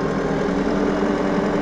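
Landini Trekker crawler tractor diesel engine running steadily, a dense low mechanical drone with constant knocking rhythm, close and loud, rising slightly in pitch as the revs are raised, with no talk over it.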